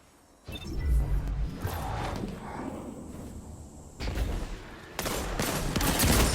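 Rapid bursts of gunfire from a Trust hand cannon and other weapons crack and boom in a video game firefight, dense and loud, with a sudden cut in and out of the noise.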